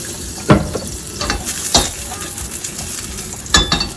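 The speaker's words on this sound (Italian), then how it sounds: "facciamo subito prendere l'aglio, possiamo spegnere anche la fiamma a questo punto" Sliced garlic sizzles in a thin stream of olive oil in a pan for spaghetti aglio olio with zucchini, a steady frying hiss broken by several sharp scrapes and clinks of a utensil stirring.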